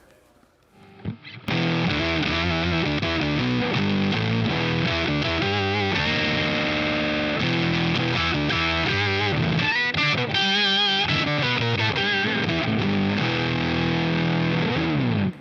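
Heavily distorted electric guitar through a Boss OC-5 octave pedal and fuzz, with a thick fuzz tone and an added lower octave, playing a continuous riff, loud and dense with no pauses.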